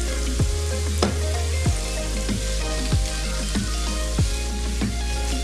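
Minced chicken breast sizzles steadily in a hot pan for an egg roll filling, with a series of sharp utensil knocks and scrapes cutting through the constant frying hiss.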